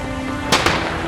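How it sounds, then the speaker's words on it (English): A lightning bolt strikes in the Metal Gear Solid 3 video game: two sharp cracking bursts in quick succession over a steady hiss of rain. "Fried by a bolt of lightning."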